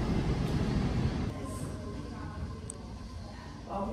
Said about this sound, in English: Off the front porch, you can watch the train.